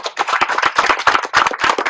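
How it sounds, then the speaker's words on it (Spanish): A lecture audience gives a strong round of applause, many hands clapping at once in a steady, close, sustained burst with no talking over it. "les pido también un fuerte aplauso"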